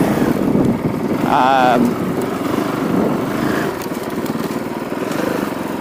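Honda CRF450L motorcycle engine while riding, a steady buzzing thrum that fluctuates slightly with throttle, running under someone talking over it.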